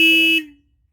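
A single loud, steady horn honk from a 2022 Royal Enfield Scram 411 motorcycle, with a bright buzzing tone, lasts under half a second, then stops abruptly into silence.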